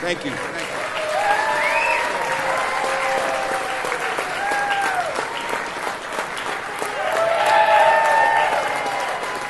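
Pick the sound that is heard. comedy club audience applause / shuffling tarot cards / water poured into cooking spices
comedy club audience applause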